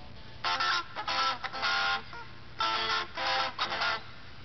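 Electric guitar chords played on the bridge and middle pickups together ring out in short strummed bursts with brief pauses between them, bright and clean.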